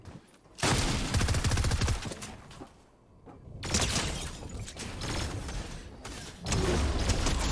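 Loud bursts of rapid gunfire from a burst weapon in Fortnite, several dense clusters separated by short lulls, close and harsh with mechanical clatter.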